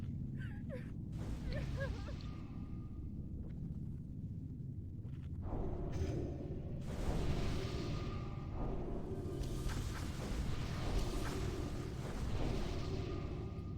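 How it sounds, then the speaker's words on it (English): In World of Warcraft Classic, an arcane explosion spell erupts as a broad whooshing burst, with more bursts in a busy raid fight at Blackwing Lair, fairly loud, while voices talk faintly at times. "Run up there, do an arcane explosion."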